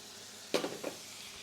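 Minced lamb keema frying with onions, ginger and garlic in a hot pan, a soft background sizzle broken by a brief scrape of stirring and a couple of clinks of utensil against pan.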